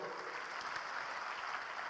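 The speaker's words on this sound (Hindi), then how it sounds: "उनके लिए बड़ी यहाँ ताली दीजिए, खूब बढ़िया ताली दोस्त" Crowd clapping steadily for a couple of seconds at an Amway celebration event, a dense, even wash of applause with no individual claps standing out.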